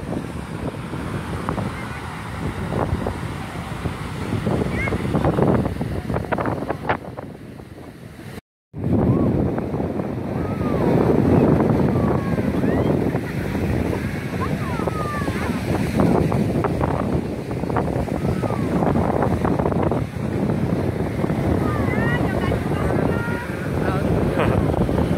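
Strong sea wind buffets the microphone at a beach lined with leaning pine trees, a steady loud roar with surf-like rumble lasting throughout, broken by one brief dropout, with no clear voices.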